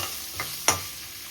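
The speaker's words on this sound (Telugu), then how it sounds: "ఆవాలు చిట్టుపట్లు ఆడి అదే ఆయిల్ అండి." Mustard seeds crackle and splutter in hot oil left in the pan from cooking ivy gourd masala, two or three quick sharp pops over a faint steady sizzle, close and without talk.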